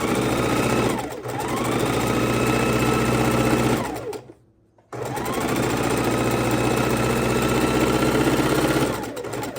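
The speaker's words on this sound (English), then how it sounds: "All right, so let's sew across this." A sewing machine stitches across quilt fabric scraps in long, loud, steady runs, with a brief stop and near-silence in the middle before the stitching resumes close up.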